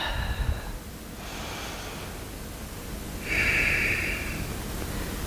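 Breaths during a seated yoga side stretch in a vinyasa flow for hips and shoulders: a few soft, airy exhales and inhales, with one stronger, snort-like nasal breath near the end, close and quiet.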